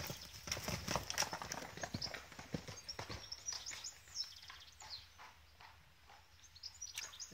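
A horse clip-clops nearby in a busy run of hoofbeats that thins into scattered, softer steps, with faint bird chirps in the background.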